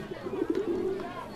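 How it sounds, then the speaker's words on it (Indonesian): A pigeon coos close by, a soft throaty run of low rolling notes lasting about a second in a quiet outdoor setting. "Merpati."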